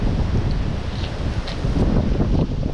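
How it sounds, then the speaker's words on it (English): Strong wind blowing outdoors on a prairie trail in Afton State Park, a steady loud rumbling roar buffeting the microphone throughout with gusty swells and no voices. "Oh, it's windy."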